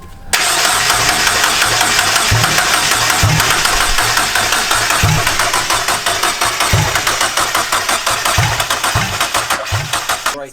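Turbo Mazda Miata engine cranking over and over, a loud close rhythmic whirring churn with regular pulses that keeps going without catching cleanly, heard alone with no talking.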